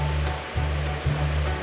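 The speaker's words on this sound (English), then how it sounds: "Although it's a man-made waterfall, it's a really pleasant place to be" Man-made waterfall in Eskişehir, Turkey, a steady close rush of falling water with a constant low roar and no voices.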